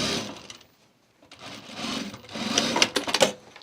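Sewing machine stitching a seam on a self-drafted bag, running in short bursts with pauses, a near, rattling mechanical whir that stops briefly and then resumes more strongly.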